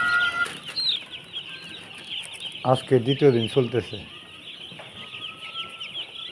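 Two-day-old broiler chicks peep in high, thin chirps inside a poultry shed under red brooder lamps. Someone talks over the chirping, and a burst of louder clucking breaks through midway.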